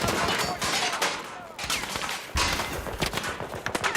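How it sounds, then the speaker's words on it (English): Rapid bursts of gunfire from a shooter video game, with sniper fire on the map, crackling and overlapping in dense volleys at moderate loudness, briefly thinning in the middle before resuming. "I'm pinned down by snipers"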